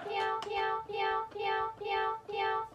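A cat piano toy plays five evenly spaced, tonal meow-like notes in a steady rhythm, bright and clear, with no talking.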